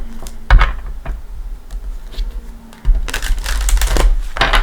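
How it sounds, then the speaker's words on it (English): Tarot cards are shuffled with quick riffling bursts and soft taps, close and fairly loud, with a dense flurry of card noise near the end and no talking. "Let's give a shuffle."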